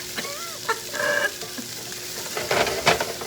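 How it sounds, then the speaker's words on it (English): Real butter sizzling and being stirred in a frying pan, with steady close crackle and a few louder scraping stirs near the end, no voices over it. "I stay on this so I don't fry that butter"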